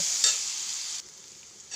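Crushed garlic and onions frying in hot oil with bay leaves, a bright sizzle that drops off abruptly partway, then a brief quieter hiss at the end.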